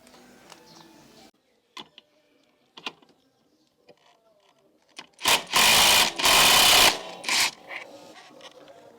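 A bolt is unscrewed on a 2018–2023 Honda Click 125i scooter: scattered metallic ticks and clicks lead into a loud, nearby whirring burst of about two seconds, then a few more clicks.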